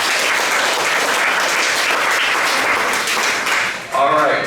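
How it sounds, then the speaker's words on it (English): Loud, dense applause from a crowd, honoring someone at an outdoor festival-style gathering, sustained evenly and dipping briefly near the end as a voice begins to speak over it. "And another round of applause for Brandon."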